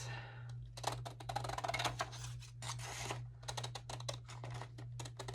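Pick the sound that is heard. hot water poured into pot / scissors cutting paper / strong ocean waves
scissors cutting paper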